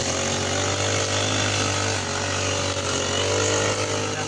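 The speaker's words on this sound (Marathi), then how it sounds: "तिकडे गवत काढायचं मशीनचं काम चालू आहे" A grass-cutting machine runs nearby, a loud, steady, unbroken engine drone with a buzzing whine and no voices over it.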